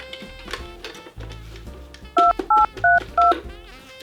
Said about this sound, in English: let's get to that very important phone call with Santa Claus himself, Christopher Kringle.